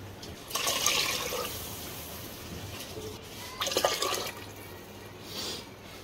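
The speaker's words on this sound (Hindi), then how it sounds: "पानी हम लोगों ने इसमें डाल दिया" Water poured into a cooking pot for garlic rice, giving two splashy bursts of pouring with a quieter wash of liquid between them, fairly faint.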